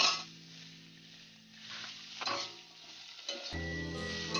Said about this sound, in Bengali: একটু নাড়াচাড়া করে নেব। এবার দিয়ে দেবো ক্যাপসিকামের টুকরোগুলো।